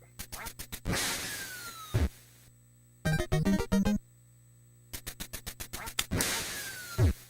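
Ducks in the NES game Duck Hunt give repeated short, harsh electronic quacks in bursts, along with chiptune jingles and sharp sound effects, with pauses of near silence between.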